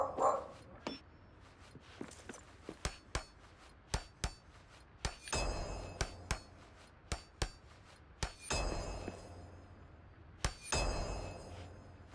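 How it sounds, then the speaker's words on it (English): Dogs barking across the street, heard as a run of sharp, fairly distant barks in irregular bursts, with some clanking and clinking mixed in. "Dogs across the street are barking"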